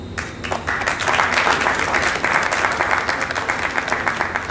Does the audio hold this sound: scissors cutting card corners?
no